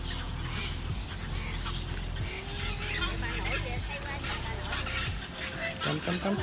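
Waterbirds call from a lotus pond on a bird island, with short honking, duck-like cries rising over a busy, noisy outdoor background that has people's voices in it.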